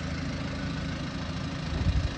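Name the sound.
1984 Mazda B2200 diesel engine idling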